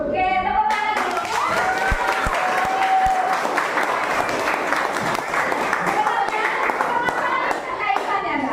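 Sustained applause from a class of middle school children, steady clapping with excited young voices and chatter mixed in throughout.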